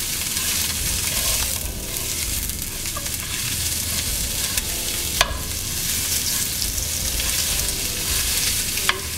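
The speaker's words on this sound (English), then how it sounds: "when you put the meat in, you want it to sizzle" Ground meat browning in a hot pan for spaghetti sizzles steadily and loudly, close up, with a couple of sharp clinks from a utensil against the pan.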